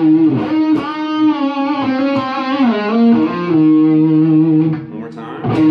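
Distorted electric guitar plays a melodic lick in E Lydian dominant, sustained bending notes with vibrato and slides, loud and close with heavy effects and reverb tails, alone without voice.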